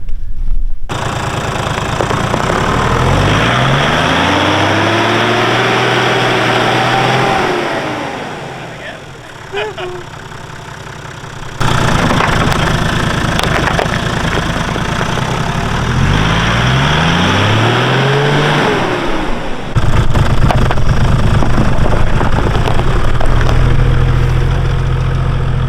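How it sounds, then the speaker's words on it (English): 4WD vehicle pushing through soft desert sand in the Simpson Desert, one wheel in the air and no drive to the front wheels; the engine revs up and strains in two long rising surges, loud and close, with steady drivetrain roar between. "We've lost drive in the front wheels with one wheel up in the air, so this should just wheelie through now."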